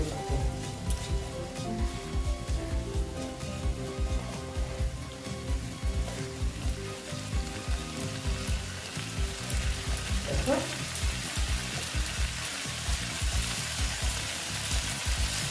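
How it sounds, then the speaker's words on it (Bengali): Poppy seeds fry in oil with a steady, dense crackling sizzle that fills the whole stretch, close and fairly loud, with no talk. "এই যে পোস্তগুলো দিয়ে দিচ্ছি দিয়ে পোস্তটা আমি ভেজে নিচ্ছি"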